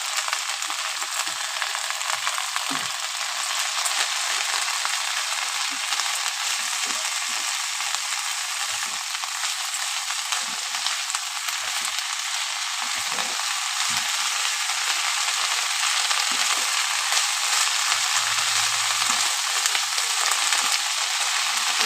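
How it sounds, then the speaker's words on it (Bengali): Bottle gourd leaf paste with salt and chilli frying in a pan, a steady, dense sizzle running without a break, close and fairly loud, with faint scraping and stirring clicks over it and no voices. "দিয়ে দিলাম স্বাদ মতো লবণ। চলো আর ভালো করে একটু ভেজে নিই।"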